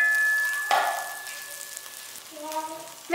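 Melted butter and oil with dried basil sizzle softly in a pan, with a clink of a utensil early on and faint frying hiss continuing throughout.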